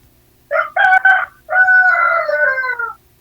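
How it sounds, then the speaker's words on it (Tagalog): A rooster crows loudly nearby, one full cock-a-doodle-doo with a choppy start and a long drawn-out ending, against a quiet background. "Daming manok."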